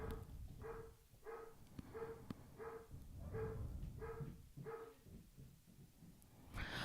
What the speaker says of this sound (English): Can you hear those dogs? They must have spotted something outside.